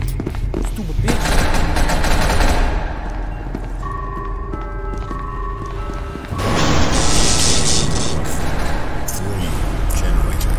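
Rapid gunfire bursts and heavy thuds from a video game, loud and dense, coming in two sustained volleys with a brief quieter stretch between them, mixed with game sounds.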